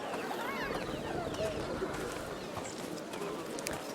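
Pigeon-like cooing from the game A Plague Tale: Requiem, soft and repeated over a steady bed of ambient game noise.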